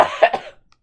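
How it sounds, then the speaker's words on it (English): One short, loud cough, close up and alone, trailing off quickly into silence. "I would like to stop coughing."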